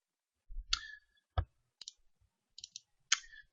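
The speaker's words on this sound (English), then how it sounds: "And then I'm just going to click on this one." Several sharp computer mouse clicks, some single and some in quick pairs, sounding close and dry against a quiet background while someone navigates design software.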